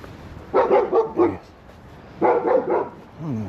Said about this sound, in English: it's like a German Shepherd, I think